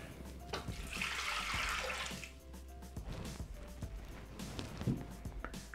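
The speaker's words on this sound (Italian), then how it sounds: "Iniziamo la ricetta mettendo all'interno del boccale l'acqua." Water pours into a Thermomix jug at the start of a bread recipe with type 1 flour, a broad rushing splash lasting about two seconds, then quieter trickles and small clinks near the microphone.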